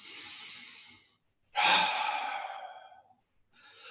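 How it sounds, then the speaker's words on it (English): A slow, deep breath during a relaxing yoga session: a soft inhale, a pause, then a longer, louder exhale through the mouth, and another inhale beginning. The breathing is close and clear with no talking. "deep inhale, and then exhale through your mouth"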